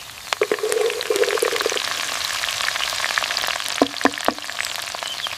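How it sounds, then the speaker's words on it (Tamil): Chopped banana stem sautés in hot oil in a pan, giving a steady close sizzle and crackle with a few sharper pops and spoon-stirring clicks, and no talking. "இப்போ பொடியாக நறுக்கிய வாழைத்தண்டை சேர்க்கலாம். நல்லா வதக்கி விடுங்க. எண்ணெயிலேயே கொஞ்சம் வேகட்டும்."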